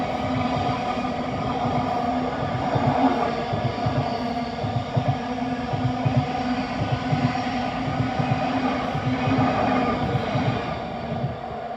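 A Class 700 electric train rumbles steadily past at close range near Caledonian Road, London, a continuous loud roar with rhythmic wheel clatter on the rails, no voices.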